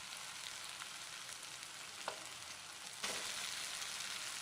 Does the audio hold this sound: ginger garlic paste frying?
yes